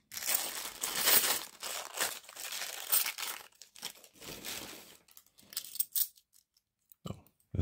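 A coin dust bag being handled and crinkled close up, with bursts of crumpling and rustling that come and go, then sparse short crackles with quiet gaps toward the end.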